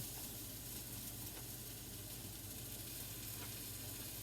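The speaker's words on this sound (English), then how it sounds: "I'm adding about 3 smashed cloves of garlic." Smashed garlic cloves sizzle in a soup pot, giving a steady, even frying hiss with no breaks.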